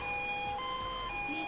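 A police siren in the MTA San Andreas video game wails steadily and loudly for the whole moment, a sustained electronic tone over a continuous low rumble of driving, with no speech.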